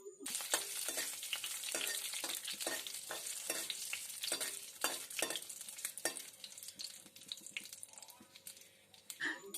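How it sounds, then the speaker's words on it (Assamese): Curry leaves, a dried chili, a bay leaf and spices frying in hot oil for a lauki curry, with a dense, bright sizzle and crackle throughout, close and fairly loud, easing near the end. "এতিয়া আটাইখিনি 30 ছেকেণ্ড মানৰ কাৰণে ভাজি লম।"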